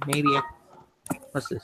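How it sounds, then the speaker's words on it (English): A phone ringtone chimes in a short burst of bright electronic tones, then stops as a voice starts speaking nearby. "Yeah, that's my ringtone."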